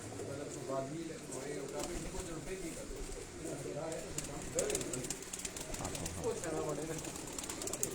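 Red pigeons on a rooftop loft in Haripur Hazara coo in repeated soft rolling phrases, several birds near and overlapping, while someone talks over them.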